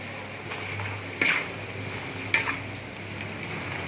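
Pork skin crackers (kerupuk kulit) fry in hot oil, giving a steady soft sizzle with two brief scraping stirs, close and alone.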